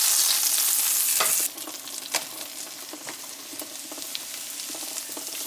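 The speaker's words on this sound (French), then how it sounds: "Ça, c'est le son du beurre." Butter sizzles and crackles steadily in a hot frying pan with mushrooms, a dense bright hiss with scattered pops, loud and close, the initial burst easing to a softer continuous fry.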